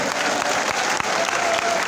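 A crowd at a political rally for Chief Minister Shivraj Singh Chauhan in Pichhore claps loudly and continuously, a dense, close wash of applause with no break.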